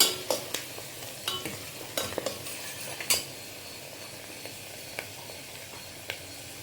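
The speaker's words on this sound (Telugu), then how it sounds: "బాగా ఫ్రై కావాలి. ఆనియన్స్ గోల్డ్ కలర్లో రావాలి." Onions fry in a pan for a Gongura mutton dish, a low sizzle beneath a series of sharp scraping stirs and utensil clinks that thin out toward the end.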